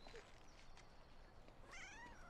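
A cat meows once in a comedy film scene, a drawn-out call that rises and then falls. It is quiet and somewhat distant over a low background hiss.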